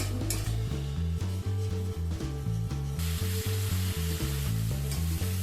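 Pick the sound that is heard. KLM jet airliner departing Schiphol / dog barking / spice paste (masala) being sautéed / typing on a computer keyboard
spice paste (masala) being sautéed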